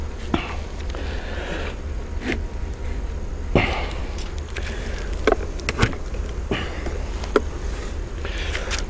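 Honeybees buzz steadily around a hive being closed up and shrunk down for winter, a continuous close insect drone with scattered sharp knocks and clunks from the hive boxes.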